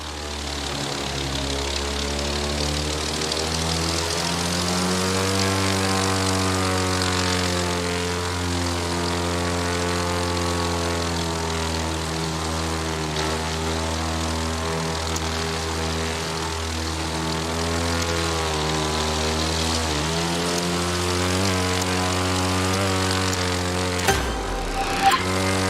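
A propeller plane engine drones steadily in The Crew 2 video game during aerial stunt flying, a loud, continuous harmonic hum with slight pitch shifts as the plane maneuvers.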